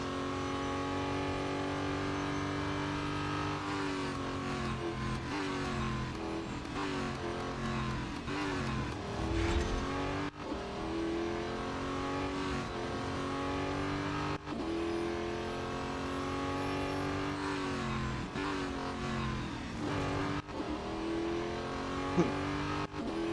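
Race car engines from the mobile racing game Real Racing 3, loud and steady throughout, with layered revving tones that climb and shift through gear changes, a few abrupt drops, and no talk over them.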